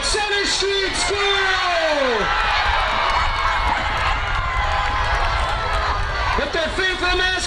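A large crowd of students at a high school homecoming pep rally cheers loudly and steadily, with individual yells and whoops rising out of the sustained roar.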